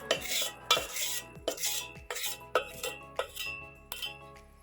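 A spoon mixing fried garlic into rice, about eight distinct rhythmic clinks and scrapes of metal against a dish, close and clear with no voices.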